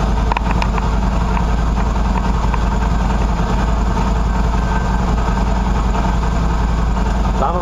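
A Qlink QBK 250 Adventure motorcycle idles steadily while warming up after sitting, a loud, close, constant low engine rumble with no change in pace.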